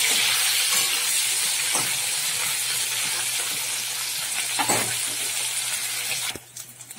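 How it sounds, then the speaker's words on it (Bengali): Tangra fish fry in hot oil with a continuous broadband sizzle, a few sharp pops and spatters breaking through before the hiss suddenly drops away near the end. "তেলটা গরম হয়ে গেছে, এবার আমি মাছগুলো ছেড়ে দেবো।"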